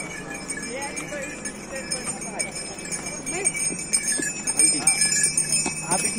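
Horses carrying pilgrims walk the mountain trail to Yamunotri in Uttarakhand, hooves clip-clopping close by under people talking.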